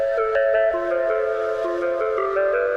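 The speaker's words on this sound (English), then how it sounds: "The main underlying theme is sampled from the car." A melody made from a car's sound, resampled as music: clear tonal synth-like notes stepping through a tune with a few sharp attacks, steady and moderately loud, with no voices.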